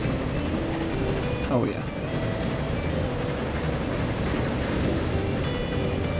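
A train runs steadily along a hilly line in Transport Fever 2, a continuous low rumble with faint tonal hums, steady in loudness throughout while someone talks briefly over it.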